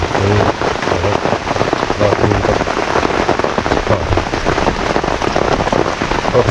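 Heavy rain pours steadily during a storm in a forest, a dense, loud, continuous hiss of drops hitting surfaces close by, with no voices.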